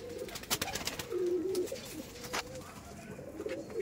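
Baby Red Madrasi pigeons coo softly and repeatedly at close range in a loft, low throaty murmurs running steadily through the moment with light rustling around them.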